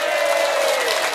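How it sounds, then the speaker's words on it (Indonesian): An audience at a large Islamic religious gathering in Magelang applauds, a dense continuous wash of clapping that fills the whole moment. "Tepuk tangan meneh."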